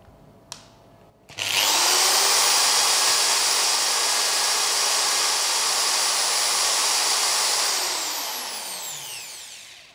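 A RYU RDR10 electric drill spins up with no load after a couple of short clicks, holding a loud, steady high whine for several seconds before slowly winding down.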